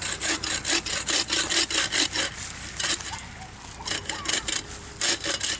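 A hand saw cuts through a Christmas tree trunk in quick back-and-forth strokes, a close, raspy wooden sawing rhythm that pauses briefly midway before resuming.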